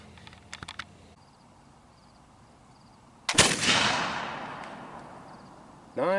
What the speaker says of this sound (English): So I'm going to try a couple of shots through the chronograph and see,